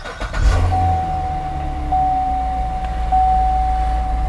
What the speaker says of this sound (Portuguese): deixa eu ligar o carro